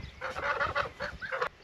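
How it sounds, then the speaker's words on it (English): Geese by a backyard rabbit hutch give a quick burst of nasal, cackling honks, several calls in rapid succession, fairly faint and at a short distance. "Oh, there's our geese."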